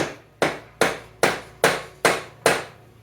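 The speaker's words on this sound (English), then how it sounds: "this is probably going to need a few blows with a rubber hammer" Blows from a rubber hammer strike a 1975 Honda Z50A engine part during a top end rebuild, seven evenly spaced dull thuds, close and moderately loud, each decaying quickly.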